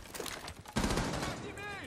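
Gunfire from the video game Rainbow Six Siege rattles in dense, rapid bursts, with loud cracks layered over a busy background and some voice mixed in.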